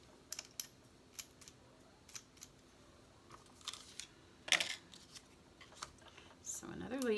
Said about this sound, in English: I'm going to try to stick my scissors in it